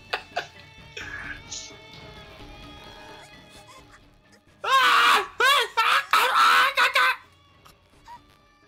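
A character screams in the horror video game Corpse Party: Book of Shadows, several loud, strained cries in quick succession after quieter groaning voices.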